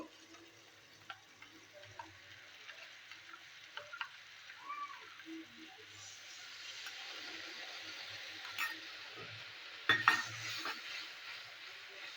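Mustard paste ground with green chili fries quietly in a pan for a fish curry, with a faint soft sizzle under scattered scrapes and clinks of a spoon stirring against the pan.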